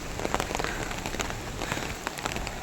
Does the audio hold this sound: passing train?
no